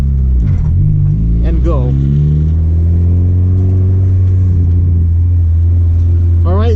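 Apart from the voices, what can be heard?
manual car pulling away in first gear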